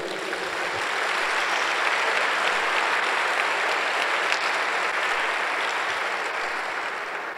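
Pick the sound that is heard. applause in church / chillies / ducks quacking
applause in church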